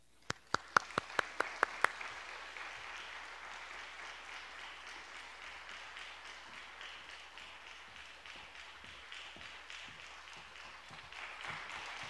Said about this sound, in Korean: 우리 소장님 나오실 때 큰 박수로 환영하도록 하겠습니다